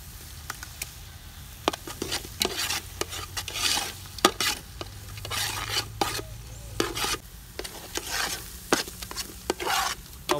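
Eggs stirred into a chicken and almond pastilla filling in a pan, a soft rasping scrape repeated in quick irregular strokes, close and fairly quiet, with no voices.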